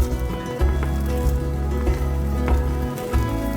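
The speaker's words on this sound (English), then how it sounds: "Just let that cook until the bottom side of the egg is set." An egg omelet with Kalamata olives and black pepper sizzles in a pan: a dense, continuous frying crackle, close and fairly loud, with a few soft bumps along the way and no talking.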